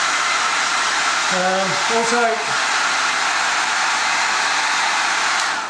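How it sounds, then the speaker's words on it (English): A hairdryer blows loudly and continuously over a linocut, a steady broad whoosh, with someone speaking briefly over it. "I'll just use the hairdryer."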